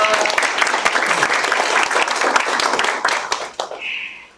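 Applause from an audience at a neighbourhood residents' assembly in Goyang, Korea, as a provincial councillor is introduced; steady crowd clapping for a few seconds that thins and stops, followed by a brief electronic tone.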